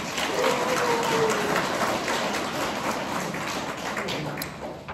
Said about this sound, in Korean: 또 한 번 박수 칩시다.